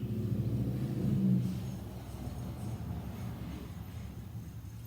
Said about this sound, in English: Sorry, I'm in Texas. There's loud trucks all over the place.